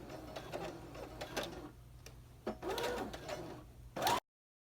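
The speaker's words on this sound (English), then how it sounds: "Go ahead and begin sewing" A sewing machine stitches a fabric coat sash seam in short, uneven spurts of whirring, with brief pauses and a sharper mechanical clack at the end, close up.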